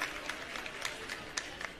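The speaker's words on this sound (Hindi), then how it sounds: "एक बार पुनः सब जोरदार तालियों से अभिनंदन करें" An audience claps to welcome a ceremonial lamp lighting at a school event, a dense and continuous spread of applause filling the clip from start to finish at a moderate distance.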